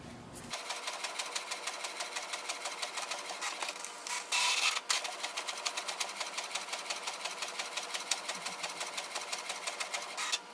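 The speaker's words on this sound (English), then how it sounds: "So this way we can do the printing." A Canon Pixma TR7000 printer runs steadily, its print head shuttling in a fast, even mechanical rattle with a brief louder whirr midway, continuous and close with no talking.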